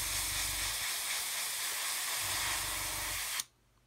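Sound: spray painting model wheels with matte aluminium paint

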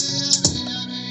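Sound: filter cutoff sweep automated on Maschine Studio

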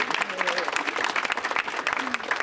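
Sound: audience applause at press announcement

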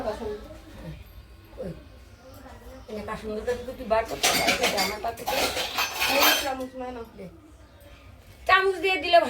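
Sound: serving fried bitter gourd onto a plate with a spoon

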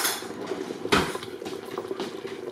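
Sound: stirring beef short rib sauce in a pot with a spoon

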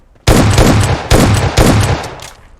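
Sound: shotgun fire in PUBG Mobile video game

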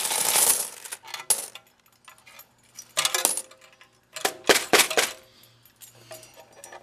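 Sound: coins dropping and clinking, Canadian loonies and toonies

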